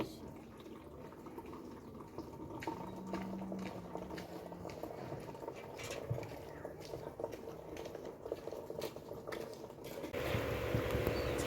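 Steady splashing and patter of tap water filling a bucket in a home kitchen, continuous and fairly quiet, growing a little louder toward the end, with a voice speaking faintly in the background.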